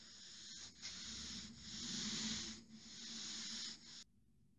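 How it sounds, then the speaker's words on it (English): Cloth soaked in methylated spirits wiping wax off furniture, a soft close rubbing hiss in several long strokes with brief pauses between them, ending abruptly. "a cloth soaked in methylated spirits and just wipe it down"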